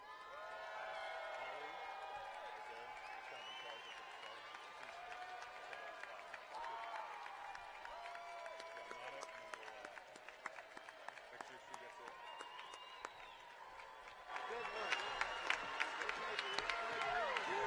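An audience at a university commencement ceremony applauds its graduates, a sustained wash of clapping from a large crowd in a big space, swelling louder near the end with scattered cheers and whoops.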